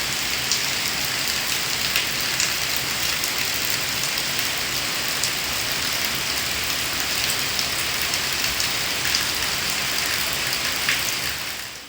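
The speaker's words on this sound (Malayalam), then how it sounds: "അങ്ങനെ ഇതാ മഴ അടിപൊളിയായിട്ട് പെയ്യുന്നുണ്ട്." Heavy evening rain pours down outside in a steady, dense hiss of drops striking surfaces, unbroken and even for the whole stretch, with no voices.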